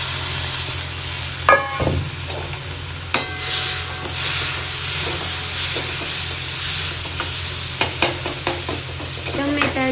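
Chopped tomatoes sizzle steadily in a pan for dal fry, with a few sharp spoon scrapes and clinks of stirring breaking through the constant close hiss.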